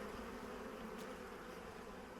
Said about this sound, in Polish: pszczoły znoszą pyłki, pyłek w wielkich ilościach